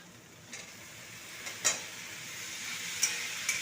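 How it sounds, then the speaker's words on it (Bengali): Onion greens frying in a pan for a potato and poppy seed dish are stirred, giving a steady close sizzle with a few sharp scrapes and clinks of the spatula, no voices. "পেঁয়াজ শাকটাকে একটু ভালো করে নেড়ে নেব"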